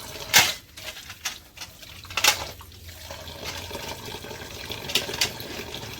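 Goat intestines, small and large, being rinsed by hand in water: splashing and sloshing bursts at irregular intervals, close and fairly loud, with a steady running-water background between them and no talking.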